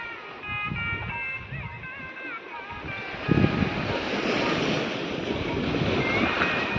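Sea surf and wind make a steady, broad roar that builds slightly partway through, with faint tonal sounds drifting over the top.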